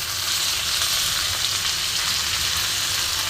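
Malabar spinach hits a hot pan with oil and fish head, setting off a loud, steady hiss of frying that holds evenly throughout, close and alone.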